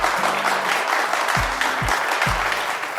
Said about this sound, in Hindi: ता पई गोटे जोरदार ताली बजाइबा